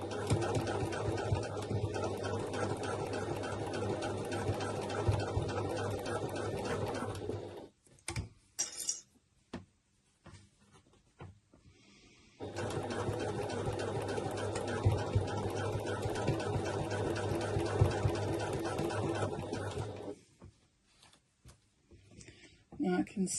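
Sewing machine running a short back stitch along a strap made from upcycled fabric scraps, a steady mechanical whir in two bursts with a brief pause between them, close and fairly loud.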